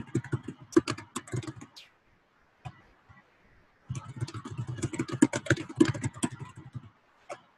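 Typing on a computer keyboard, close and fairly quiet, two bursts of rapid irregular key clicks separated by a short pause with a few isolated taps.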